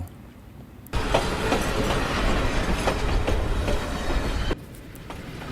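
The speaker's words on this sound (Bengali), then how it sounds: "যাওয়ার কিছুক্ষণ পরেই আমাদের তিস্তা এক্সপ্রেস ট্রেনটি ছাড়ল" The Teesta Express train rolls along the tracks with a steady loud rumble and rhythmic wheel clatter, quieter at the start and end.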